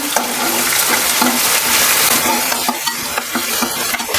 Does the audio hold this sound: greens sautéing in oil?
yes